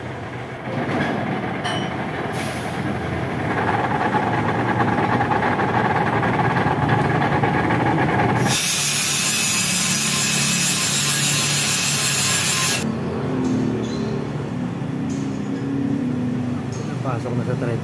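A drill bores through the steel insert in a threaded spark plug hole, a harsh grinding whine that builds, with a loud bright burst of cutting in the middle before easing off; voices speak over parts of it.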